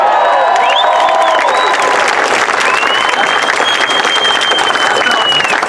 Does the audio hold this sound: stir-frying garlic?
no